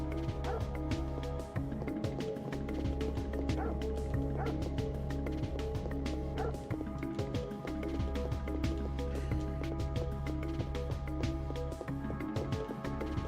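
Puppies in the video game Parasite Eve bark and yip in repeated short bursts over a steady droning background hum, with faint whimpering between the barks.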